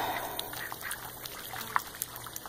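Domestic ducks and geese swimming on water give soft, scattered quacks over a faint watery wash, fairly quiet and somewhat distant.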